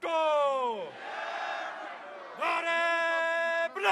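A crowd of party workers at a Pakistan Peoples Party rally in Gilgit Astore chants Bhutto slogans: loud, sustained massed voices in two drawn-out call bursts, with a rowdy murmur between them.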